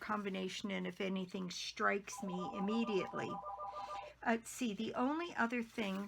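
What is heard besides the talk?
telephone ringing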